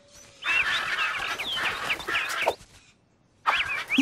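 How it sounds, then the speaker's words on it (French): Loud, busy chorus of chirping and squawking birds, an aviary-like din of many overlapping calls that runs for about two seconds, breaks off into silence, then starts again near the end. "Les cris d'oiseaux me donnent mal à la tête."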